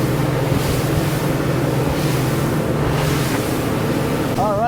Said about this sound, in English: Waves are still kind of roller, just as predicted, every 10 to maybe 9 seconds.